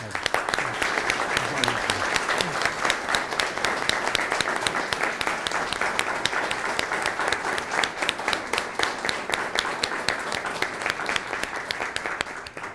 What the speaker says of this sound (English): I'd like to ask everybody to give you a round of applause.